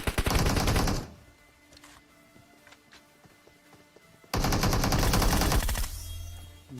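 Bursts of AKM automatic rifle fire in a battle royale game: a loud rapid volley, a quiet gap with faint clicks and footsteps, then another long sustained burst of shots.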